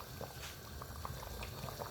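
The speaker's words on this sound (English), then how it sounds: "It's bubbling nice. Look at it. Look at it. It's boiling so nicely." Chicken and pigeon pea soup boiling in a pot, a steady close bubbling and popping of liquid throughout, with no voices.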